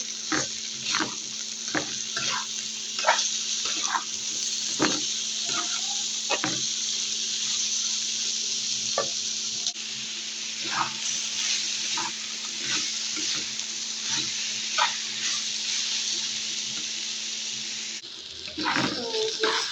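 Sliced bitter gourd sizzling in a frying pan while being stirred, a steady hiss of frying with irregular scraping clicks from the utensil throughout, close and without talk.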